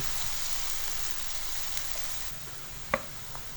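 Chopped onions frying in ghee, a loud, steady crackling sizzle close up, with one brief utensil tap near the end.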